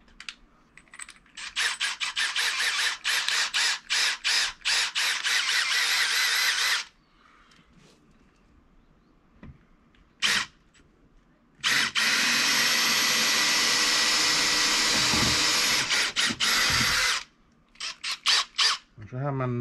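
A power drill whirs in long bursts, pausing between runs, with faint knocks and short rattles in the gaps; loud and close.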